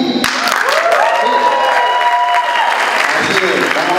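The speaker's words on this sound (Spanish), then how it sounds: "Yo quiero un aplauso, pero con bulla" Loud applause mixed with shouts and whoops breaks out in a crowd at a youth awards ceremony for advertising creativity and theater, a continuous roar with voices rising above it.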